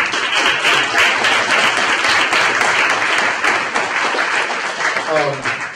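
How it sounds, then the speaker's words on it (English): Audience at a community meeting breaks into loud, dense applause that carries on evenly for several seconds, close and full, with a voice starting to speak right at the end. "So another big round of applause for everyone."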